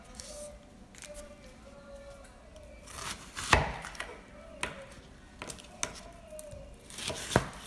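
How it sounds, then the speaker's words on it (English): A knife chops onions on a board in a run of sharp strikes, with a few louder chops standing out over soft kitchen noise. "Peel the onions and then cut them."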